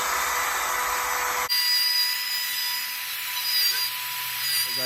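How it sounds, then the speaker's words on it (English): A router cuts a shallow, partial-depth pass into a wooden dresser part being duplicated, producing a loud, steady high-pitched whine that drops in tone after a brief dip and then runs on continuously, close up. "I'm not cutting all the way through it at this point."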